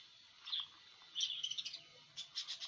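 Pet lovebirds in a cage chirp in short, high bursts of quick tweets, fairly soft and close, with brief quiet gaps between the calls.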